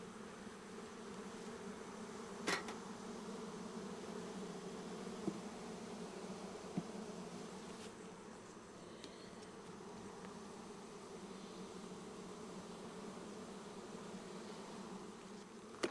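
Steady, dense buzzing of many honey bees swarming close by, a continuous hum with a few faint clicks and knocks scattered through it.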